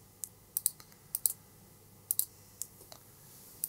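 Short bursts of key clicks from a computer keyboard as a password is typed in, faint and close with irregular pauses between keystrokes, no talking.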